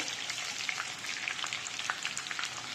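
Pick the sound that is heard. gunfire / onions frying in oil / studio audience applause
onions frying in oil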